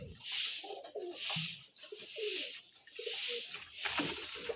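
Rajshahi gerebaj pigeons on a farm giving soft repeated cooing calls, several low throaty phrases in a steady rhythm, quiet and close, with faint hiss in the background.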